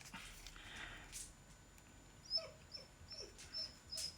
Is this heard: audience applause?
no